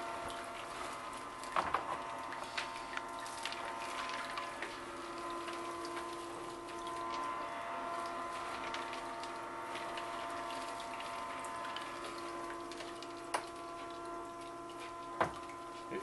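A Goldsnare SGS-1 mini gold dredge runs with a continuous watery pump whir and steady flow, material rattling through its sluice, with a few faint knocks and no talking.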